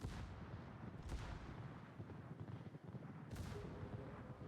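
Heavy 380 mm battleship guns firing in World of Warships, a continuous rumbling barrage with two sharper booming reports standing out, dense and loud throughout.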